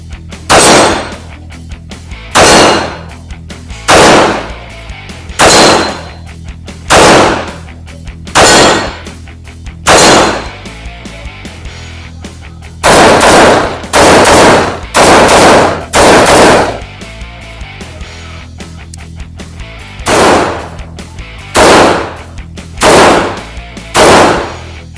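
A Springfield Armory Operator 1911 .45 pistol being test fired, with loud, sharp gunshots in steady rhythmic strings, roughly twenty reports in close succession with brief pauses between groups, very near and dominant.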